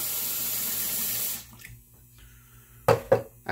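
Tap water runs steadily from a faucet into a sink to soak an Omega 10049 Professional boar shaving brush with a 26 mm knot, then cuts off, leaving a quiet room with two brief knocks near the end.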